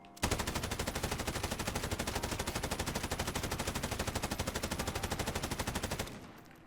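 A Bruen MK9 machine gun in Modern Warfare fires one unbroken, rapid full-auto burst for about six seconds, loud, steady and close, then stops abruptly.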